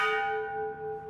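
A temple bell rings once in the morning in Taipei, Taiwan, its bright metallic tone sustaining clearly and fading gradually, heard alone without voices.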